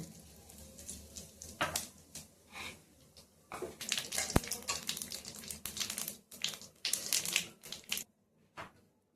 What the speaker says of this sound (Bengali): শুকনো লঙ্কা তেজপাতা দিয়ে দিচ্ছি, কটা জিরে দিয়ে দিচ্ছি